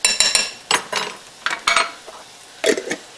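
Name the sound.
spooning salsa into skillet scramble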